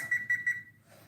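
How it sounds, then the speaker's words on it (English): A kitchen timer set for ten minutes for a pizza baking at 425 degrees gives three quick, bright electronic beeps in a steady rhythm, close and clear, followed by a faint low hum. "Okay, timer for 10 minutes."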